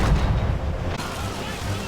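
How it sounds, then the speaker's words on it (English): Ship cannons firing in the Assassin's Creed Rogue video game, a deep rumbling boom that rolls on loudly for the whole stretch, with a second heavy blast about halfway through, heard over a steady low game soundtrack. "Fire cannons."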